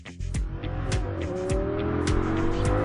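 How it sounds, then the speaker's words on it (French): A 2010 Audi R8 V10 Spyder accelerates hard through the gears, its engine note rising in pitch several times with brief dips at each shift, loud and close, with no talk. "On accélère, le moteur épate par sa souplesse et sa disponibilité à bas régime"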